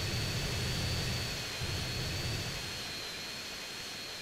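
Jet engine of a jet flying in jet mode in GTA San Andreas, a steady loud rushing roar with a high whine held throughout, with low rumbling surges near the start.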